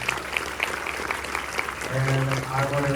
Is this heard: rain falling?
no